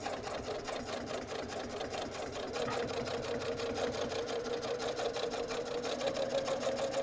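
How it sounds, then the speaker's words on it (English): Sewing machine stitching two five-inch quilt pinwheel squares together with a quarter-inch seam, a steady fast mechanical whirring and needle chatter running close and continuous throughout, with no voices. "and we're just gonna sew with a 1/4-inch seam."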